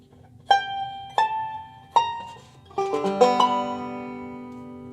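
A banjo plays a slow strummed ending: three separate ringing strums, then a quicker cluster of notes that rings out and fades, close and clear with no talking.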